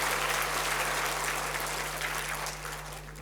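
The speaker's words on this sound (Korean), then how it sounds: "우리 격려의 박수 한번 하겠습니다." A church congregation at a New Year's Eve service claps in encouragement, a dense, even burst of applause over a steady low electrical hum, tapering slightly at the end.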